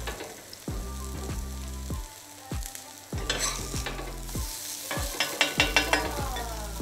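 Vegan corn fritters fry in a hot pan with steady crackling sizzle, broken by repeated scraping, stirring strokes as they are moved around, all close up with no talking.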